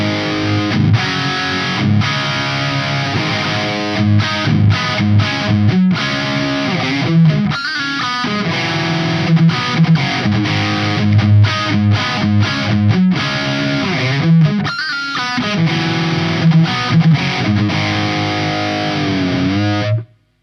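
Electric guitar played through an ADA preamp's overdrive channel with effects bypassed, heavily distorted chords and riffs chugging loud and close in choppy rhythmic bursts for about twenty seconds, ending abruptly.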